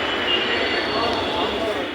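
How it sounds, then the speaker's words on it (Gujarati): A metro train rolls into a station with a loud, continuous rumbling roar of wheels and motors, close by, with people talking over it. "આવી ગઈ ટ્રેન."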